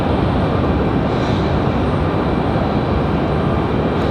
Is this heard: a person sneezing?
no